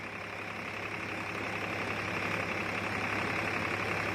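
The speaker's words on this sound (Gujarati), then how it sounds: "એક ધારું ટ્રેક્ટર ચાલુ" Tractor engine running a wheat thresher, a steady, even drone with a low hum and constant mechanical rattle, fairly quiet and without voices.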